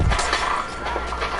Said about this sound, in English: Did I destroy a glass? I'm confused. I heard a glass sound.